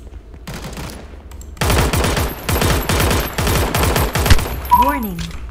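Gunfire in the mobile shooter Omega Legends arrives as a rapid automatic burst of loud, closely spaced shots after a quiet opening, followed by a short rising electronic tone.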